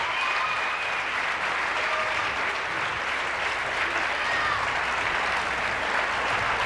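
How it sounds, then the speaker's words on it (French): Studio audience in a French television talk show clapping loudly and continuously, a dense steady applause with no break. "Applaudissements."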